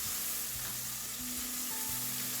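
Garlic paste sizzles and fries steadily in hot oil for a keema karahi of mixed lamb and chicken mince, a loud, dense crackle that runs without a break, with faint stirring and scraping underneath.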